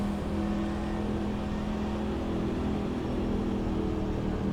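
NASCAR truck engine in the iRacing game at Chicagoland, a steady low rumbling drone as the truck rolls off under the clutch, continuous and fairly even with no talk.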